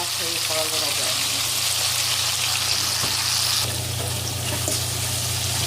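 Tomatoes, onions, saltfish and ackee sautéing in a pan for a Jamaican dinner: a steady, loud frying sizzle with a brief stir or scrape partway through and faint background sounds.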